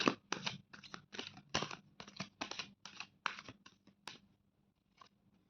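Tarot cards shuffled by hand in a quick series of crisp, papery riffling bursts, about a dozen close strokes that slow and thin out toward the end, then near silence.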